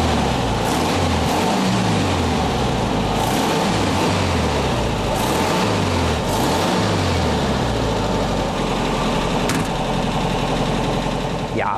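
A VW 1303 convertible's air-cooled four-cylinder boxer engine runs steadily and loudly for the whole stretch, with a throbbing low drone and rising and falling pitch sweeps as it revs.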